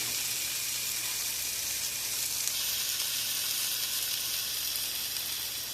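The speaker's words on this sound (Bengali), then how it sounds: "এখন আমি লাউ শিলটা দিয়ে দিচ্ছি।" Bottle gourd shreds dropped into hot oil give a steady, even sizzle that holds at the same loudness from start to finish, close up and with no voices.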